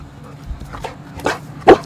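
A dog at an animal shelter gives a few short, clipped barks and yips that grow louder toward the end, close by, with little talk over them.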